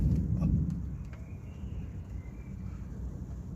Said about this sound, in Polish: Taka tam burza.